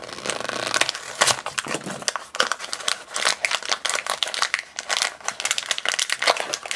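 Crinkly plastic wrapping and cardboard of a Kidrobot Labbit blind box rustle and crackle up close in quick, busy bursts as the package is torn open, with no talking.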